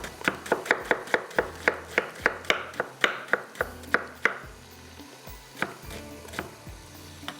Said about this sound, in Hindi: बंद गोभी काट लेंगे 1 कप के जितनी